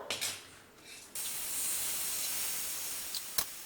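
Jalebi batter fries in hot oil with a steady broad hiss and sizzle that rises abruptly after a second and holds loud to the end, with a few brief bursts.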